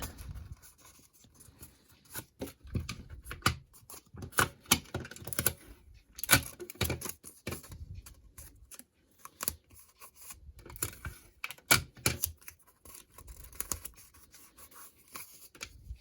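Scissors snip through a cardboard toilet paper roll in quick irregular bursts of crisp clicks and crunches, close up and fairly quiet, with short pauses between cuts.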